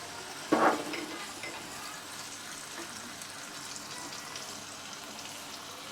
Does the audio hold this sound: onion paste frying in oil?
yes